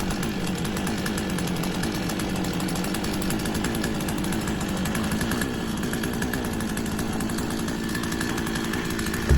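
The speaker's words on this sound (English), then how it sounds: "I've managed to get it going. I'm just going to leave that to warm up a bit." A petrol chainsaw runs steadily on its own to warm up, its continuous buzzing drone loud and close with no talk.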